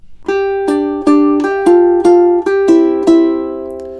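A ukulele plucks measure 13 of the Beverly Hills Cop theme, about eight clear, bright notes in a syncopated rhythm, each ringing close and loud, with no talking.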